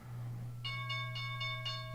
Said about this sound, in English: There's the morning bell.